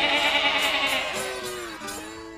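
A voice imitates a sheep's wavering bleat in one drawn-out call, loud and close, fading slightly toward the end.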